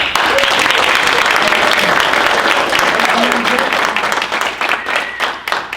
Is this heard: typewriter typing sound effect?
no